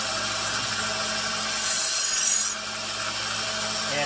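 A Damascus steel tanto knife has its sharp edge ground down, giving a steady, close rasping scrape that swells briefly midway and runs continuously for about four seconds.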